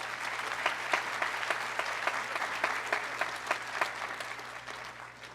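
Graduates at a Sussex County Community College commencement applaud themselves, a soft, somewhat distant crowd clapping with a few distinct sharp claps standing out over a low steady hum, tapering off at the end.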